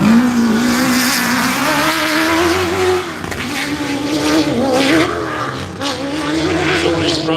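At the Loveday 400, an off-road race buggy roars past close by, its engine note rising and falling loudly with a brief tire squeal, with no one talking over it.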